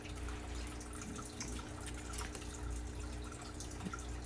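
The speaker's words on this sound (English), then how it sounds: "So then just spray some water in here." A spray bottle mists water into a crested gecko cage, producing several short hissing spritzes in quick succession over faint background noise.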